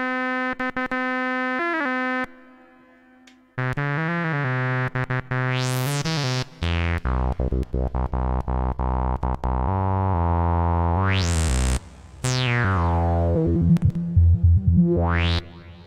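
Modular synthesizer with a voltage controlled filter, reverb and delay, loud sustained tones with rising and falling pitch sweeps and echoing tails, playing alone.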